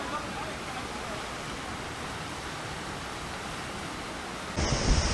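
Fast water of the Fırtına Stream rushes in a loud, continuous broadband roar during rafting, holding steady for several seconds before a brief louder surge near the end.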